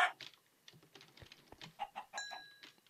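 Chickens in the Minecraft video game cluck in a short run of quick, fairly close calls with brief pauses, and a few clicky taps sound between them.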